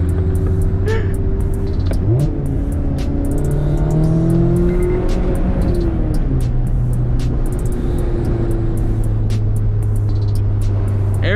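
A Mazda RX-7 FD with a rotary engine accelerates hard in a group drive alongside a Miata and BRZ, its engine note loud and continuous for the whole stretch, rising in pitch through gear changes, with occasional brief tire or wind noise.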